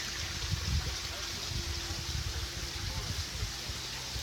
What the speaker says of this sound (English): from here the water flows over this way